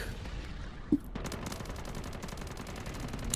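Gunfire in MW3 Zombies, a short burst of rapid shots at moderate loudness with a single sharper crack early on.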